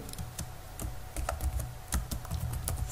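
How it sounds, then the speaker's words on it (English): Rapid, uneven clacking of computer keyboard keys as code is typed for a React Native app, close and clear with no talking. "we have to type import"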